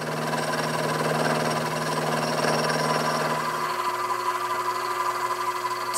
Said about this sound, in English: and then milling down the length of it.